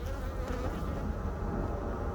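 Bees from a long horizontal hive drone in a steady, dense buzz during an inspection, close and continuous with no talk.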